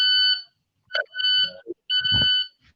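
An imported Japanese device emits repeated harsh electronic beeps, three bursts of a buzzy high tone separated by pauses, interrupted by brief clattering handling noises.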